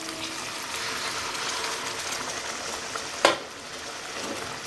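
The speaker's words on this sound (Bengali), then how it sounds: "আমি এবার জল দিয়ে দেবো গরম জল দেবো" Hot water hits chicken frying in oil in a pan for Bengali-style chicken biryani, giving a steady, close hiss and sizzle with one sharp splash partway through.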